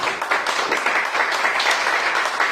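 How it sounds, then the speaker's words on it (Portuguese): A church congregation applauds during a Sunday morning worship service, a steady dense wash of clapping with no break for the whole stretch. "aplauda o Senhor Jesus"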